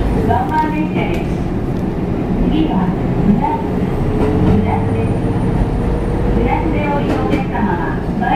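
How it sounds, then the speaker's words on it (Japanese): A KiHa 25 diesel railcar on the Kisei Line in Japan rumbles steadily along with a low engine drone and faint rail clatter, heard from inside the carriage. "この列車は普通列車の新宮行きワンマン列車です。"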